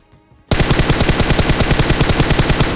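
Sustained automatic gunfire from an M16 in the mobile battle-royale game PUBG Mobile, a loud, rapid, unbroken burst that starts abruptly after a brief quiet moment.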